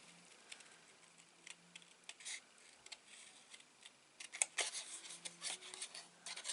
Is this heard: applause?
no